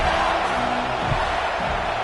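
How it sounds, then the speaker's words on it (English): A dense home crowd at LSU's stadium roars and cheers steadily in the NCAA 26 football video game, a loud continuous wash of voices with no clear pauses, after a home score. "They got a lot to cheer about here at home."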